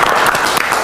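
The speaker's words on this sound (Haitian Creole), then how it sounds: "Applaudissements." Loud, dense applause from a crowd, filling the whole brief moment.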